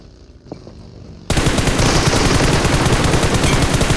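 After a quiet moment with a couple of faint clicks, sustained rapid automatic gunfire from enemies on a hill suddenly erupts in the shooter game One Man Squad, dense and loud, continuing to the end.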